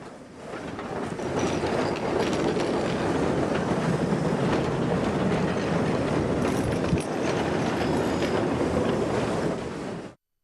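An excursion tourist train rolls steadily along its rails, a loud, continuous close-up rumble with faint clickety-clack from the wheels, holding level for about ten seconds before cutting off abruptly.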